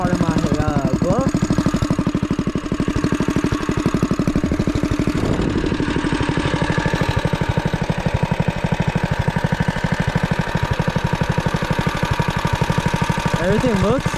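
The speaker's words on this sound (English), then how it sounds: "It is idling a little low, so we'll have to adjust the idle a little bit" A small engine on a go-kart or minibike named Medusa, fitted with a new torque converter and cold air intake, idles a little low with a rapid, even putter and faint rattling clatter, loud and close throughout.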